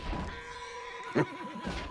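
A horse neighs in a western video game, a short whinny with a brief thump partway through, heard fairly close over a quiet background.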